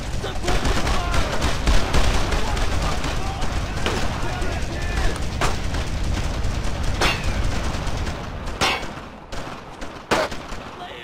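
Dense, loud gunfire in the World War II shooter Brothers in Arms: Road to Hill 30, a near-constant rattle of rifle and machine-gun shots with booming blasts, mixed with shouted soldier voices.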